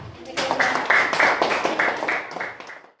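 Students in a classroom clap for group 4 after its presentation, a short patter of claps in a pulsing rhythm with voices mixed in, trailing off at the end.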